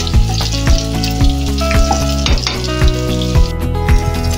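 Garlic and onions sauté in butter for chicken afritada, a loud steady sizzle with repeated sharp clinks of a utensil stirring against the pan.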